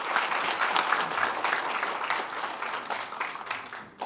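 Warm audience applause at an education forum in Hwaseong, a steady, fairly dense clapping crowd heard alone that thins and fades briefly just before the end.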